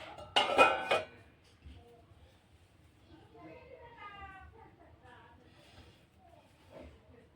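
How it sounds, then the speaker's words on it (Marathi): A lid clanks down onto a pan of paneer makhni with a sharp, bright metallic clatter near the start. A low hiss follows, and a voice talks quietly afterward. "आता याच्यावरती झाकण ठेवूया"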